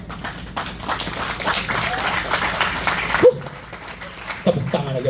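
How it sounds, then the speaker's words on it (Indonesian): An audience claps loudly and steadily at a character-building talk, a dense wash of hands that cuts off after about three seconds, followed by scattered voices and a few stray claps. "Kamu tepuk tangannya keras ya kan?"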